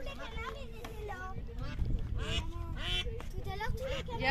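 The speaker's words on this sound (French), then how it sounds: "Aura, elle a repéré les canards." Ducks quack in a park, mixed with children's voices and an adult speaking nearby.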